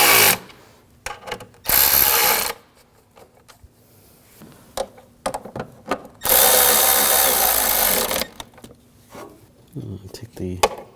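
A power tool tightens the ignition coil bolts on a 2007-2013 BMW 328i 3.0L inline-six, giving two loud whirring bursts, one short and one longer, with ratcheting clicks and handling noises between them.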